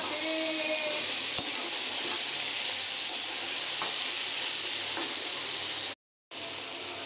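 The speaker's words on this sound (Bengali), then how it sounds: "এবার দিয়ে দেবো সর্ষে আর পোস্ত বাটাটাকে, দিয়ে একটু কষিয়ে নেবো" Fish heads fry in a pan with a ground mustard and poppy seed paste, giving a steady close sizzle with a few sharp crackles and light stirring. Near the end there is a brief total dropout.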